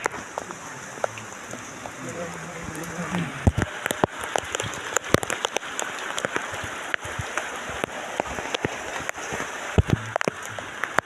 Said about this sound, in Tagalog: Ang ulan guys, gakusog, kahinay